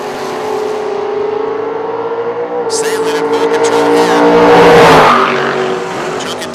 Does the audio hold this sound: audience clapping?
no